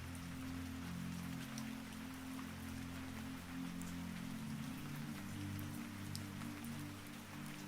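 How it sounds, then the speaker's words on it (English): Steady rain streaming over a curved copper dome roof, a dense continuous patter with scattered sharper drops, constant and moderately loud throughout with no voices. "Rain runs across the curved roof in branching streams."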